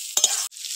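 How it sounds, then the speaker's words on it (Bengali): Brief close-up stirring of mashed tilapia fish with spices in a hot pan: two quick scraping strokes over a bright, steady sizzle, then a short pause before the sizzle resumes. "মাছটা ভালো করে মশলার সঙ্গে মিশিয়ে নেব"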